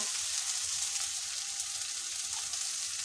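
Frying white mustard and green chili paste gives off a steady, fairly soft hiss as boiled ash gourd greens go into the pan, an even sizzle with no distinct stirring strokes and no voices.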